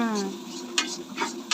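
Meat dropped into a pot of fried spice masala and stirred, with a steady sizzle under scraping strokes of a utensil; a voice is faintly present.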